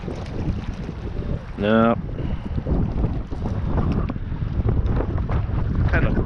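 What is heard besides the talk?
strong wind gusts while fishing from a boat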